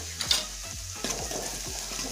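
Coconut and garlic paste hits hot oil already seasoned with cumin and mustard seeds, crackling and sizzling loudly as a spoon scrapes and stirs through it in a repeated rhythm.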